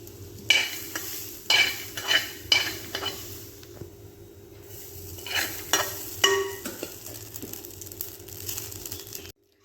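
Heated Thanga Samba rice flakes being stirred with other ingredients in a pan, with repeated scraping strokes in a steady rhythm over a soft sizzle, and no voices.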